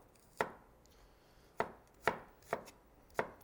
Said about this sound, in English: So we just cut them into strips